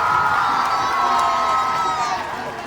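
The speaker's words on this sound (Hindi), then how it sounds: "इनके लिए जोरदार तालियां हो जाए" A crowd at an Independence Day honours ceremony in Bidasar cheers and shouts loudly in a sustained roar, with children's voices prominent, tapering slightly at the end.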